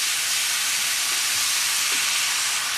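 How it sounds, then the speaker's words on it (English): Lean ground beef browning in a few tablespoons of olive oil in a pan, a loud, steady sizzle and hiss filling the clip with faint stirring sounds underneath and no talking. "just continue to stir it while it browns"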